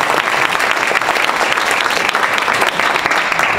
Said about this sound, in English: So you can clap for Lucy.